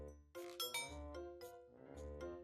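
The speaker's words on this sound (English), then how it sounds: "And when I unlocked the doorbell rang." A house doorbell gives a clear ding-dong chime, its bright tones ringing out and then repeating as a second chime follows, heard close and alone.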